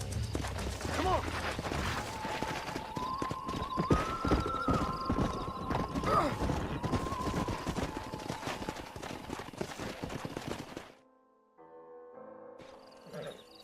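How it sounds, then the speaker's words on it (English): Horses in the video game Red Dead Redemption 2 galloping with rapid hoofbeats and loud whinnies and neighs, plus game sounds and voices, before the action cuts off abruptly into quiet near the end. "We got some fine horses."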